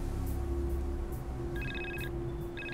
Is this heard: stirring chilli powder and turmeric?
no